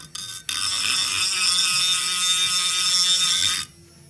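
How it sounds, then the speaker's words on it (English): Power grinder cutting off rust pitting from metal, a loud sustained high whine lasting about three seconds, starting abruptly after a brief burst and stopping cleanly. "right here we are grinding off the rust pitting with this thing"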